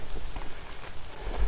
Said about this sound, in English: Yeah, it's really raining now.